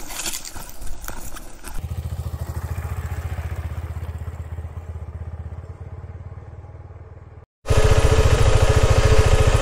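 Motorcycle ridden downhill off a mountain, its engine droning steadily with a low rumble and wind rush, briefly cutting out near the end before returning loud and close.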